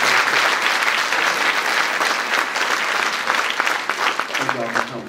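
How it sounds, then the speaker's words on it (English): An audience at a University of Detroit Mercy law panel on citizen's arrest applauds the panelists with loud, sustained clapping that fills the room, and a voice starts talking over it near the end. "Please give them a warm round of applause for their presence"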